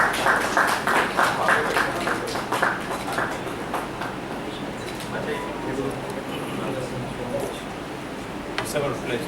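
Applause from the audience at a university leadership conference: distinct claps are strongest at the start, then fade into a softer, sustained patter with murmuring voices.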